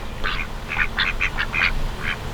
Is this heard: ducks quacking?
yes